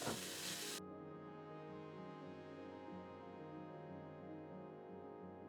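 Garlic and ginger sizzle gently with onions in a pan for Japanese curry, a faint steady frying hiss with soft stirring, quiet and continuous after a brief louder start.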